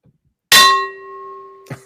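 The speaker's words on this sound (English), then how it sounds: "Hit that notification bell." A single metallic bell strike rings out loud and clear, then its tone fades slowly before a soft thud near the end.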